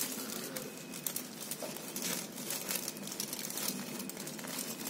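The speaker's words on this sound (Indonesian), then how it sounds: "Jadi saya gunakan plastik PE berukuran besar." A large PE plastic bag crinkles and rustles continuously as it is wrapped around fruit with its leaves, heard close up with busy, uneven crackling throughout.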